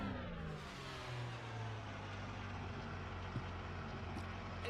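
Simulated car engine in the racing game Assetto Corsa, a steady droning hum with shifting engine tones held at an even level throughout, no talking.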